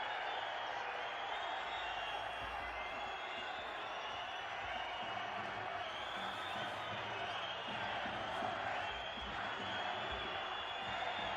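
Spanish basketball arena crowd in a women's game between Casademont Zaragoza and ACS Sepsi SIC, a steady dense roar of protesting voices, whistles and shouts sustained throughout at a constant loud level.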